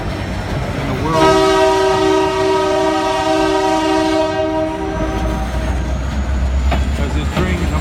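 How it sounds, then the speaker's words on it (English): A loud freight train horn blares in long sustained tones as the train rolls past nearby by the water, with a steady rumble of wheels underneath. "As this train comes by"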